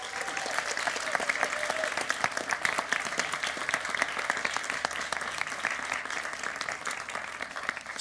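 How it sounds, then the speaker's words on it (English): An audience applauds science communication contestants at a FameLab International semi-final, a dense, steady wash of many clapping hands sustained for several seconds without letting up. "can we have a collective round of applause, not just for the 9 here, but for the 25 over the day?"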